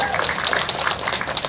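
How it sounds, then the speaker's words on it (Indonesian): Dense applause from a crowd at a Ridwan Kamil campaign gathering, a steady wash of many hands clapping close by with no gaps for the whole stretch. "Terima kasih, tepuk tangan untuk kita."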